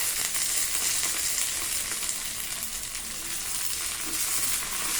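Chopped onions, green chillies and curry leaves fry in a pan for an okra-tomato curry, giving a steady, dense close-up sizzle that holds evenly throughout with no speech.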